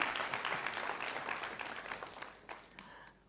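Audience applauding a trainer at an entrepreneurship training session, a steady patter of clapping from a modest crowd in a room, tapering off toward the end.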